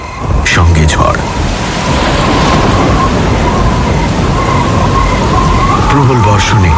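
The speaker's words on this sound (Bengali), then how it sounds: "প্রচণ্ড বৃষ্টি সঙ্গে ঝড়।" Heavy rain with a thunderstorm as a dramatic effect, loud continuous downpour hiss with rumbling thunder swelling at the start and end, dense and close throughout.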